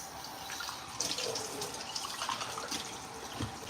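Water runs steadily from a tap while coffee equipment, including a French press, is rinsed and cleaned, a continuous close hiss and splash with small drips and no voices.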